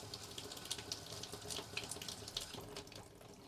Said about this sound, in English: Get all that clear water out of there.